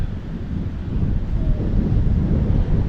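Wind blows hard across the microphone at a beach in southern Thailand, making a loud, steady low rumble and buffeting with no voices.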